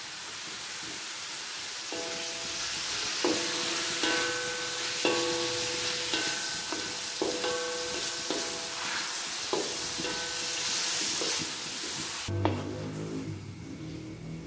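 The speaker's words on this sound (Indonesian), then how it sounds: "Saya nak tumiskan pudina selama 5 minit." Mint leaves fry in reused oil in a pan, giving a steady hiss and sizzle with repeated stirring scrapes. Loud, clear tonal clangs ring out at intervals, and a louder clatter comes near the end.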